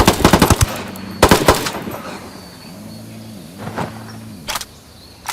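Automatic gunfire from the Ghost Recon Wildlands video game rattles out in sharp bursts, two heavy volleys early on and a few single shots later, with a low engine-like drone humming underneath.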